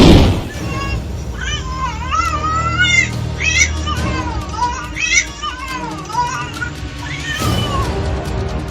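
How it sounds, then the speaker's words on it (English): A cat stuck in a fence lets out loud, wavering screams and yowls in repeated rising and falling bursts, with children's voices and commotion nearby. "This poor cat got stuck in a fence. His struggling and screaming were so intense."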